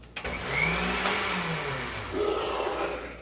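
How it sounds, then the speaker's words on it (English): A kitchen blender runs with a steady whirring roar and a shifting motor pitch, fairly loud and continuous, with no voices over it. "I'll just wait till his nibs stops the blender."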